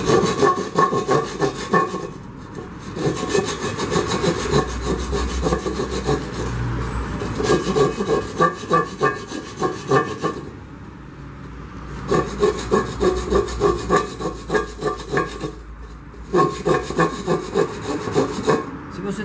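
A large sheet of sandpaper scrapes across a surface in steady back-and-forth strokes, a rough, rhythmic rasping that keeps going for most of the stretch with a few brief pauses.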